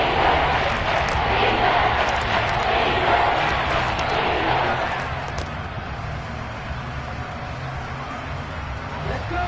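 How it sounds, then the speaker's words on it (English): A football stadium crowd roars and cheers ahead of a big third down, a dense sustained wall of noise that eases slightly in the second half, with commentary voices over it. "the crowd getting into it as we come up on a big 3rd down"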